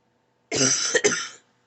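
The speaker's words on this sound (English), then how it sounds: "I'm so sorry about my coughing" One short, harsh cough from a person speaking at home in a bedroom, close and loud, with a quick second burst right after the first, then silence.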